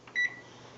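A kitchen timer gives a single short, fairly faint beep while a homebrew boil is timed, standing alone against quiet background hum.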